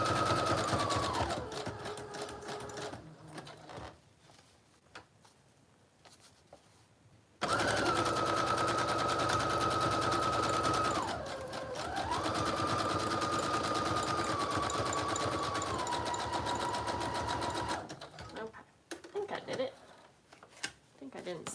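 A sewing machine stitches through a decorated French journal in two sustained runs, the second longer and louder, its motor whine dipping briefly midway. Quiet rustling and handling fill the gaps.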